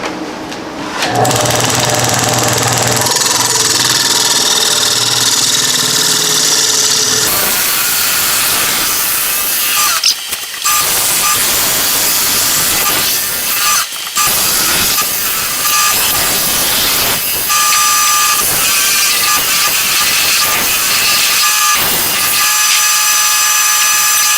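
Mesquite bowl spinning on a wood lathe while a bowl gouge cuts, giving a steady, loud whirring scrape that runs almost continuously, with a few brief pauses where the tool lifts off.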